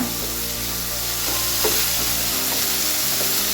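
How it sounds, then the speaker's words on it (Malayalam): Onion and green gram sautéing together in a pan with no water added, a steady loud sizzle with occasional stirring scrapes and no voices. "ഞാനിത് രണ്ടും കൂടി ഒന്നിച്ചാണ് വഴറ്റിയെടുക്കാൻ പോണത് വെള്ളം ഒഴിക്കണില്ല"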